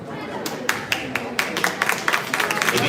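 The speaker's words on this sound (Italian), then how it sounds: "vi ringrazio per questo applauso spontaneo" Spontaneous applause from the audience at a regional youth boxing tournament in Padova, with scattered claps growing into steady, fairly close clapping over about three seconds.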